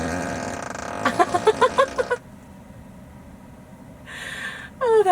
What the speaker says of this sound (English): Oh, that was the ludicrous fart.